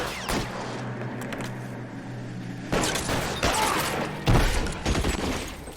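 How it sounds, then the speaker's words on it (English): Tommy gun fire in the 1940s Los Angeles crime game LA Noire, with bursts of automatic gunfire and thumps during a shootout, loud and dense throughout and growing heavier in later bursts. "they got Tommy guns up there"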